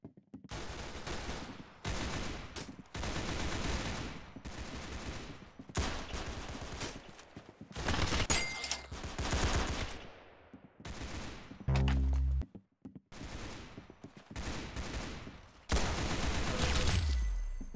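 Rapid bursts of automatic gunfire from the Roblox game Arsenal come in repeated volleys separated by short pauses, loud and close, with a few heavier single blasts mixed in.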